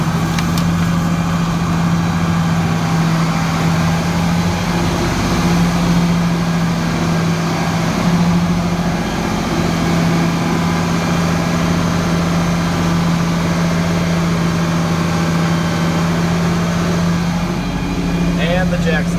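An old black truck engine runs with aggressive knocking on a farm, producing a loud, constant low drone and hum that continues steadily throughout without a break.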